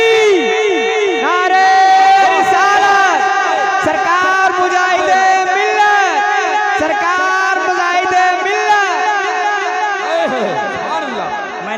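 A large religious gathering responds in unison to the Naara-e-Takbeer call, many voices chanting together loudly and continuously, with dense overlapping crowd voices throughout and a brief swell near the end.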